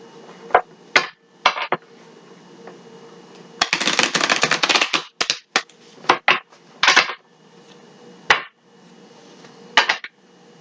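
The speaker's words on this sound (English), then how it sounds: "One more shuffle." Cosmic Tarot cards are shuffled in crisp riffling bursts, including one long rustling stretch between short snaps and taps, all fairly close with no voice over them.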